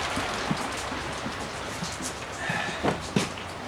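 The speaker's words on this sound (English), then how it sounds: "But it's soaking rain." Heavy soaking rain falls steadily on a gray day, a dense close hiss of drops with a few sharper splats and taps on nearby surfaces.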